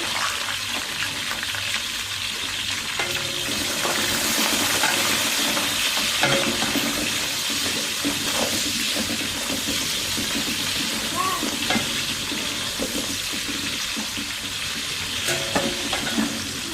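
A kilogram of sliced onions with green chillies fries in a large pot of oil for a big batch of bagara rice, a dense continuous sizzle with occasional stirring scrapes and clinks, close and steady throughout.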